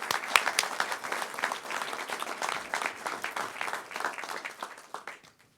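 Crowd applause in a city council room at a police chief appointment, lively clapping with a few sharp claps up front, holding steady and then fading out to silence.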